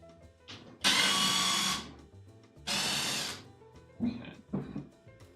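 A power drill bores pilot holes into wood for a lumber storage rack support, in two loud sustained bursts of about a second each, with quieter clatter and handling noise between them.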